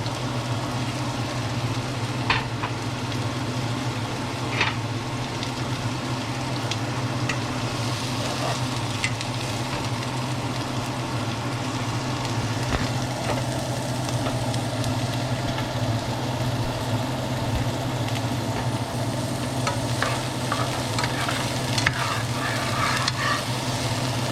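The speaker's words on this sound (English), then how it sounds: "let's go on and saute our onions and green peppers, red peppers" Onions, green peppers and red peppers sauté for chili in a pan, giving a steady close sizzle and crackle throughout with occasional stirring clinks and scrapes over a low background hum.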